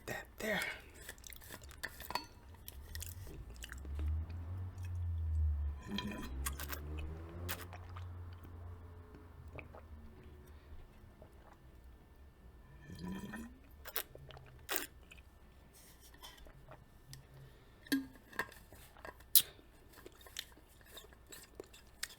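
Close, crisp chewing and crunching of apple pie with ice cream, wet bites and squishy mouth sounds in an irregular rhythm, with soft clinks of cutlery on a dish now and then.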